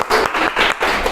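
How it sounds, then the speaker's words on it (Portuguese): An audience gives a short burst of clapping that comes in several quick, uneven pulses, moderately loud and close, with no voices on top. "Palmas para o Fernando."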